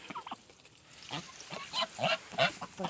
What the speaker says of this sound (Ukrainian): Це називається качки повимивалися